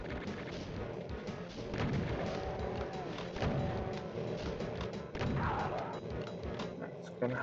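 Chaingunners in Doom's The Plutonia Experiment fire rapid, rattling bursts of gunfire, with booming shots and crashes layered densely across the whole stretch at moderate loudness.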